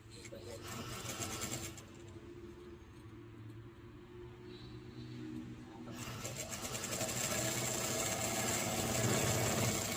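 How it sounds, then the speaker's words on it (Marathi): A sewing machine stitching a half-katori full blouse, running in steady fast rhythmic bursts that pause briefly and resume louder, close to the microphone. "इथे टिप मारून घेणार आहोत."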